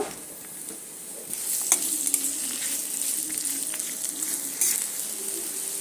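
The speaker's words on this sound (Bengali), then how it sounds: "এবার আমি এই পেঁয়াজগুলো তেলের মধ্যে দিয়ে সুন্দর করে একটা বেরেস্তা তৈরি করে নেব" Chopped onions frying in oil until crisp and browned, a close, steady sizzle that swells louder after the first second, with scattered clicks from stirring.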